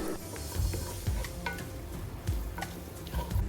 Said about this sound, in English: I'm going to toss this around and toast them a little bit.